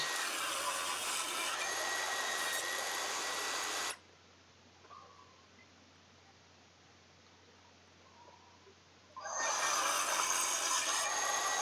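A power saw trims the edges off a glued-up oak and maple block for a lamp, two loud, close, harsh cutting passes separated by a quiet gap of several seconds.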